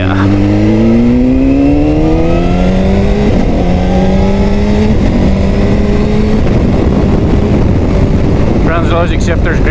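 A 2005 Honda CBR600RR engine revs loudly through the gears on a test ride, rising pitch sweeps broken by shifts, with wind roar and a rider talking over it.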